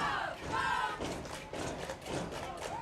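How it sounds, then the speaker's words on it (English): Home crowd at a varsity high school football game cheering after a touchdown, a distant, fairly faint roar with bursts of shouting and a few thumps. "Crowd getting into it."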